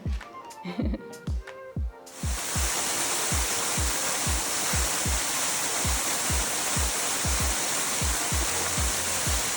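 A waterfall in Bali pours as a steady, loud, broadband rush, preceded by a short stretch of rhythmic thumping beats that continue faintly beneath the water.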